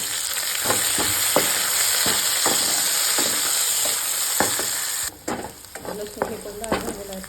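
Garlic and ginger sizzle steadily in hot oil in a pan for a paneer curry, a loud continuous frying hiss with intermittent stirring clinks, then the sizzle drops and quietens near the end.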